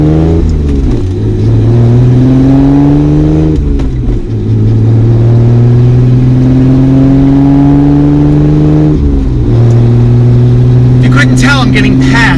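A completely stock, unmodified BMW E30 Touring wagon pulls through the gears on the road, its engine note climbing steadily and dropping at two shifts, loud and continuous, with a voice speaking over it throughout.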